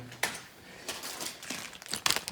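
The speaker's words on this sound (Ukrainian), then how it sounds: "Пакетик такий мощний." A plastic packet crinkles and rustles while a parcel of Lego minifigures and other toys is unpacked, bursts of crackling handling that grow louder toward the end, with no voices.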